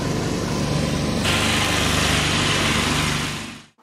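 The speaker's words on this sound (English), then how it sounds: "Always somebody mowing the lawn" A lawn mower runs outside near a home, its engine droning loudly and continuously before cutting off abruptly at the end.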